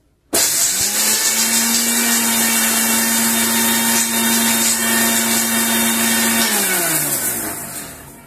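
Electric mixer grinder running on coarsely pounded masala tea spices: a loud, steady high-pitched whir that starts abruptly, holds evenly for several seconds, then slows and winds down near the end.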